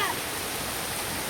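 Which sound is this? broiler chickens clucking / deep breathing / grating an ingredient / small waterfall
small waterfall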